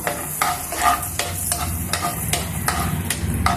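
Cashew nuts frying in a pan for chicken majboos, a loud close sizzle punctuated by regular scraping stirs of a spoon against the pan.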